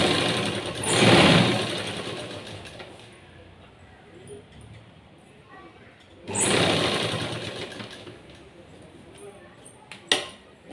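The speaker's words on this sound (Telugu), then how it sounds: "ఇదే విధంగా రెండో స్టిచ్ కూడా వేసుకోవాలి." A sewing machine stitches a blouse seam in two short bursts, each running about a second, with a quiet pause between them and a faint tick near the end.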